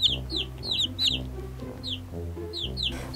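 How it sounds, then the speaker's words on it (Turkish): Toy farm animal sounds of a chick and a hen: repeated high peeping chirps from the chick alternate with lower rhythmic hen clucks, loud and close, with no talking over them. "Bu bir civciv. Gel bakalım civciv. Senin kümesin burası. Burada bir de tavuk var."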